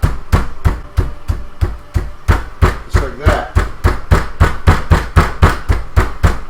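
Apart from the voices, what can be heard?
pounding chicken covered in plastic wrap with a mallet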